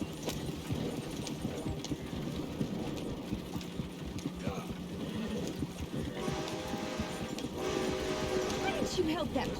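A horse's hooves clip-clop in steady rhythm in Red Dead Redemption 2, fairly soft beneath ongoing conversation between characters.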